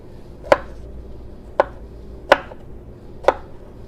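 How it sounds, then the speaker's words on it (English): Four separate knife chops on a cutting board while preparing mango salsa, sharp close thuds spaced about a second apart against a quiet background. "And I'm gonna chop it."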